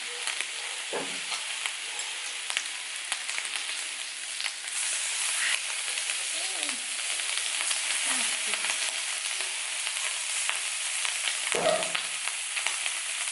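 Bacon sizzles steadily on a hot teppanyaki griddle, a constant close crackling hiss with faint pops, broken now and then by brief soft clanks or scrapes.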